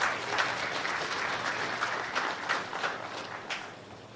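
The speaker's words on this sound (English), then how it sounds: "let's clap hands for him" An audience at a press briefing claps for a young moderator, a dense, continuous round of applause that holds steady for several seconds before tapering slightly.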